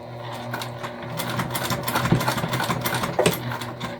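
A sewing machine stitches along the seam of a handmade pouch being turned into a crossbody bag, its steady mechanical whir running close and continuous with small rises in speed.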